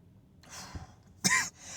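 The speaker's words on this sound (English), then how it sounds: "apparently I'm dying from coughing" A person coughs close to the microphone. A short throaty cough comes first, followed by a louder, harsher cough and then heavy breathing.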